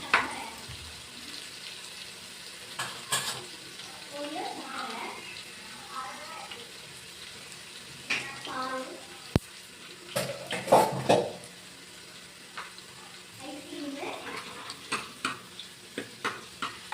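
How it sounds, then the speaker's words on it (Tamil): Crushed garlic frying in a pan for a Tamil rock fish curry, with a steady sizzle and sharp scraping stirs coming in bursts; a voice speaks at times over the cooking. "தட்டி அது போட்டு நல்லா வதக்கிட்டு நல்லா சிவப்பு வதக்கணும்."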